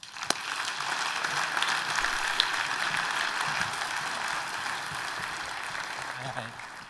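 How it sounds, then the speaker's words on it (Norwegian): A conference audience claps as panelists are introduced, a moderate spread of hand claps that starts abruptly and gradually thins out, with some scattered voices underneath. "Nå kan dere klappe i hvert fall."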